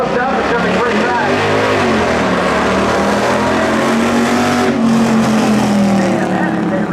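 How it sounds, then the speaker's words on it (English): A loud Mustang and a Chrysler 300 drag race at New Smyrna Speedway, engines roaring close and continuous with a rising rev sweep, while a commentator talks over the noise. "Man, that is a really, really loud Mustang that guy has there."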